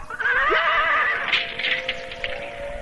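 A horse whinnies loudly and close by in an Indonesian audio drama, a long rising-and-falling neigh that fills nearly three seconds with no voices over it.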